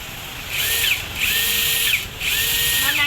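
DeWalt cordless drill whirring in three close, loud bursts that rise in pitch as each run spins up, separated by brief pauses, with no voices.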